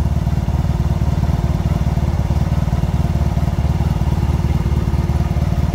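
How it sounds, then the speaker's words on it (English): A motorcycle idles close by with its radiator fan running. The engine throbs in a steady, even rhythm under a constant whirring hum, loud, with no talk. "I'm letting it idle. So the radiator fan is on."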